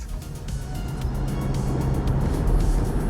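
A restored Holden cruises along with a steady, smooth engine drone and road rumble heard from inside, rising gradually in loudness with no talking.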